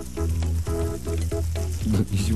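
Garlic sizzles as it fries in a pan, a steady close crackle that runs without a break for a couple of seconds with some clattering underneath.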